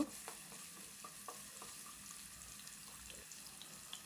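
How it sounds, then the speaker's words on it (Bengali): Potatoes sizzling in hot cooking oil while being turned with a spatula, a soft, steady frying hiss broken by regular light scrapes and taps of the utensil against the pan, fairly quiet and close. "প্রথমে তিন চার মিনিট আলু নেড়ে চেড়ে ভেজে নেব"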